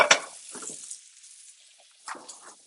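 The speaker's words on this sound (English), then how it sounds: "Give it a nice little stir." Carrots, mushrooms and pearl onions sizzle quietly in a pan while being stirred, with a few soft scraping bursts and a faint crackle in between, close and brief.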